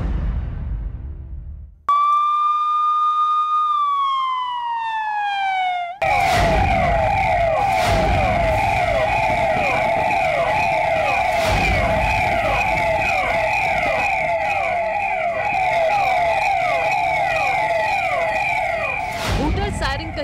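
An emergency vehicle siren wails loudly, first a rising and falling tone, then a rapid repeating yelp that continues steadily and close for the rest of the stretch.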